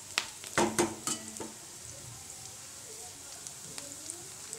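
Onions sautéing in a pan for quick egg rice: a few sharp stirring clatters early on, then a soft, steady sizzle that continues quietly to the end.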